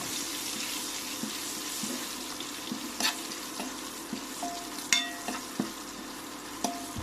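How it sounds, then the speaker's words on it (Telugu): Curry leaves frying in hot oil with asafoetida for amla (Indian gooseberry) pickle, a steady soft sizzle with occasional spoon stirs and clinks against the pan. "శుభ్రంగా వాష్ చేసుకుని ఆరబెట్టుకున్న కరివేపాకును వేసుకొని ఫ్రై చేసుకోవాలి"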